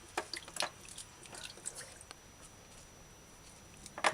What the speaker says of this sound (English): now we're going to rinse the vegetables properly under fresh running water